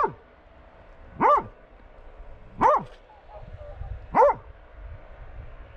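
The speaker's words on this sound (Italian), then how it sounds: "Questa è la realtà, dove Ugo abbaia, perché vede un iceberg" A dog barks three times in a steady rhythm, each bark short and clear with a pause between, close by over a low background rumble.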